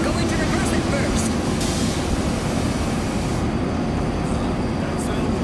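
A train rumbles steadily along in the World War Z: Aftermath video game's New York level, a loud, continuous low roar with rattling over it, while people talk over the noise.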